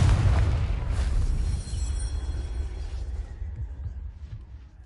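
A Confringo spell explodes in Hogwarts Legacy on PS4, played on hard mode, with a loud booming blast at the start that rumbles on, fading slowly into low background noise.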